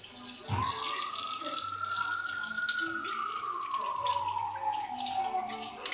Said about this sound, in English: You gotta rinse it in the water.